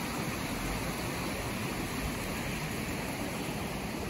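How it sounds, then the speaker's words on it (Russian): A river rushes steadily beside a path in autumn in Alzenau, Germany, a constant broadband roar of flowing water with no voices. "Наверное, река это будет у меня потом в ролике шуметь."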